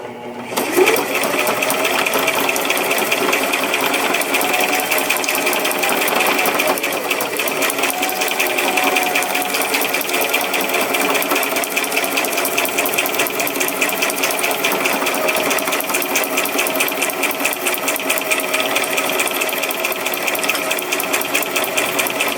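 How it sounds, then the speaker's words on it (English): A sewing machine runs steadily for over twenty seconds, stitching a straight line and then back-stitching while making paper-craft stitched heart strip embellishments, its motor hum and needle clatter loud and continuous with no talking. "So I'm just gonna do a quick straight stitch all the way across."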